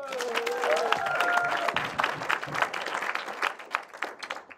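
A festival awards crowd claps for a nominated film, dense applause that starts full and gradually thins into scattered individual claps, with a brief whistle or cheer near the start.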